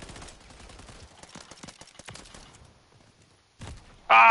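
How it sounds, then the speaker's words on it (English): Rapid assault rifle fire from a Call of Duty match, with dense clattering bursts for about two seconds that thin out, go quiet, and are followed by a short burst and a final loud blast. "Yo, I like this new assault rifle."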